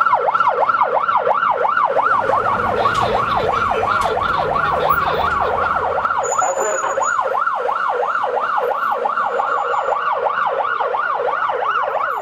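An ambulance siren wails loudly in fast, regular up-and-down sweeps through dense traffic, with a low road rumble underneath.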